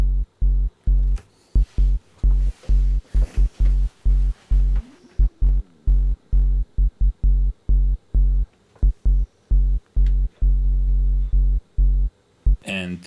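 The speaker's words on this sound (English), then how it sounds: "this offbeat sub-bass combined with the kick drum, I think really gives the groove in the club that you need" An Arturia MiniBrute plays a pulsing offbeat sub-bass against a kick drum, deep chopped hits in a steady dance groove, loud and up close.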